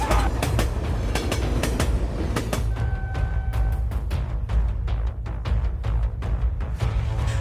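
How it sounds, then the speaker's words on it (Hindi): An animated passenger train in India rolls along with loud rhythmic clickety-clack of wheels over rail joints, a brief high squeal partway through, then steady rumbling as it slows, with no voices. "कुछ ही देर में ट्रेन रुक जाती है।"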